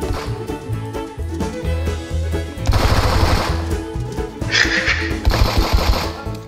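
Rapid automatic gunfire from a video game, loud bursts of clatter over a steady backing game soundtrack, with a couple of separate volleys in a few seconds.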